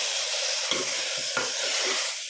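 Vegetable sambar with sambar powder being stirred in a pot: steady close scraping strokes over a constant hiss, with a few distinct stirring pushes.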